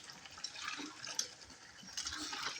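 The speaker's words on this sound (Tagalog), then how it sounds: "Malakas po ang tubig dito." Steady gushing water at a well, fairly faint and continuous, with a soft splashing hiss and a few small knocks, no voices.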